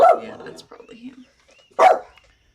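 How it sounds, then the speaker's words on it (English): A dog gives two short barks about two seconds apart, with quiet murmuring voices in between. "If he keeps barking, I'll put it on mute for my mic."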